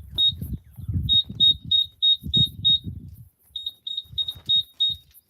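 Wireless controller for a university O-motor rocket test burn beeps out its battery voltage: a rapid series of short, clear high electronic beeps in two bursts, close by, with people talking underneath throughout.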